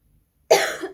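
A single sharp cough erupts close and loud after near silence, trailing off with a brief rasp.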